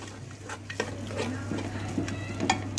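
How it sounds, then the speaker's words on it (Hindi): Onion, garlic, ginger and tomato fry for Hari Mirch qeema, giving a soft steady sizzle with intermittent stirring scrapes and light clinks of a utensil against the pan, close and continuous. "इसको भी थोड़ा सा हम भून लेंगे।"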